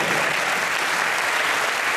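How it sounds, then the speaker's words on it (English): A crowd at a Space Shuttle Endeavour STS-134 mission event breaks into dense, continuous applause, loud and even throughout without any break. "applause."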